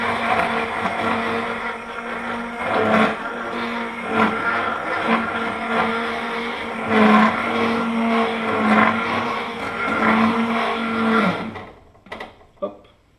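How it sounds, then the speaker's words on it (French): Electric blender whirring as it mixes eggs and milk for chocolate cream off the heat, a steady loud motor drone over about eleven seconds with a voice talking over it, then it stops and a few clicks follow. "Donc on mixe hors du feu, pour pas que ça cuise."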